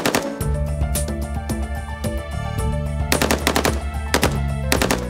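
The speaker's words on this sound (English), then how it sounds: "Then the AK-47." An AK-47 rifle fires in loud, rapid bursts, rattling automatic shots with strong echoing tails, close and dominant throughout, with no talking.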